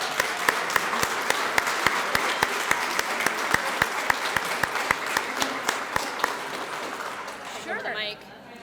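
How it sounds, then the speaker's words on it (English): Audience applause at a leadership graduation ceremony, steady broadband clapping with sharp individual claps standing out, lasting about eight seconds before fading as a voice begins at the end. "let's give them a round of applause"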